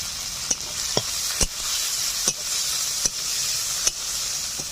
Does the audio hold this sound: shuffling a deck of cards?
no